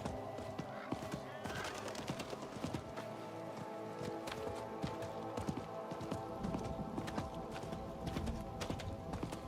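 Horse hooves clip-clopping in the Diablo 4 video game, a rapid irregular patter of hoof hits mixed with game ambience and other clatter, fairly faint and continuous throughout.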